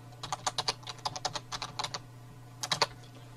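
Computer keyboard keys tapped in two quick bursts, a run of about a dozen close, crisp clicks followed by a pause and a shorter flurry of three or four, over a steady low hum.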